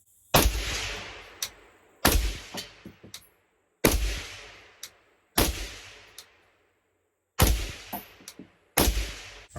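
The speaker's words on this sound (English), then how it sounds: "I'm just going to do a relatively quick mag dump just to test it with the suppressor" A Ruger SFAR rifle fired through a Huxworks titanium suppressor in a mag dump: six sharp, loud reports spaced about a second and a half apart outdoors, each followed by metallic clinks and a short echo.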